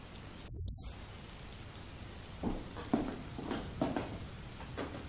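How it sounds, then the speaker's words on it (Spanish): Steady rain falls outdoors as a faint, constant hiss, with a few louder drips or splashes standing out now and then. "Si deja de llover. Es que no va a escampar nunca."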